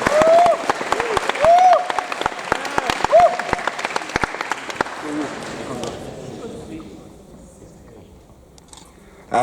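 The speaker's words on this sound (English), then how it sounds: "Round of applause, please." Audience applause at an award ceremony, a dense, loud patter of many hands clapping for several seconds, with a voice sounding over it, then fading out to a quiet room near the end.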